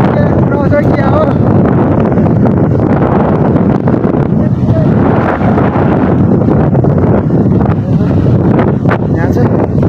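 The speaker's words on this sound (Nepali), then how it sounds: "यहाँ चाहिँ जोड हावा आइरहेको छ" Strong wind blowing across a mountain trail in Manang, buffeting the microphone with loud, continuous low rumbling gusts throughout.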